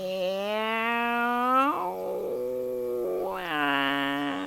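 A person imitates a cat, giving two long, tonal, drawn-out meow-like wails with a lower, rougher break between them, loud and close with no other sounds.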